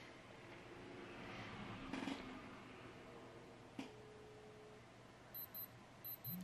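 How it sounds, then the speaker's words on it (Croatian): Mobile phone beeping for an incoming call, four short, faint electronic beeps in an even rhythm at the end, after a quiet stretch with light room noise. "Znači 4 puta bipne i ikona titra kad vas neko zove na mobitelu"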